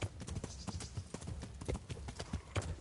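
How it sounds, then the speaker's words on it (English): Horse hooves clip-clop in a steady, quick rhythm on the ground in the video game Kingdom Come: Deliverance, moderately quiet and continuous, with no talking over it. "You can call your horse, of course."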